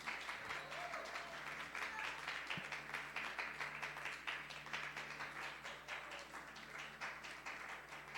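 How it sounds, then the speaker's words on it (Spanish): A church congregation claps hands as an offering of praise, sustained dense applause from many people filling the room, steady throughout with a voice faintly underneath. "Dele una ofrenda de palmas al Señor."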